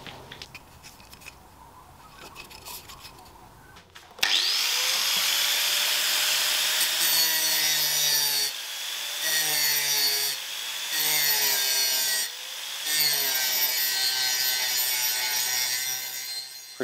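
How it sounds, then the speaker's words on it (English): Quiet handling gives way to an angle grinder with a grinding disc biting into the corner of a metal tube. It makes a loud, sustained, high-pitched whine with several brief dips as the pressure shifts. "We're just going to use the grinder to remove the material along the corner of the tube between the two marks"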